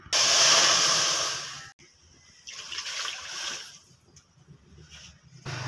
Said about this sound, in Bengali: এই বাটি 2 বাটি জল দিয়ে দেব।